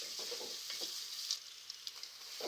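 Chopped onions softening as they fry in a pan, a quiet continuous sizzle broken by a few light clinks and stirring scrapes, nearby and with no voices.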